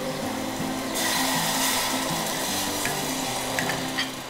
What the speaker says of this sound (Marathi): आता मी जर पीठ कालवलंय मसाल्यात ता घालतोय ह्याच्यात भुतूर.